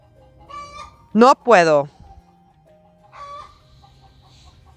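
Chickens clucking and squawking in a backyard garden, with two loud, sharp rising calls in quick succession amid softer clucks before and after; someone briefly speaks.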